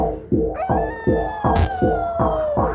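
A dog-like howl with barking: a string of rhythmic, pulsing cries that rise into a long, sustained wavering tone. It is loud and close, and no one speaks.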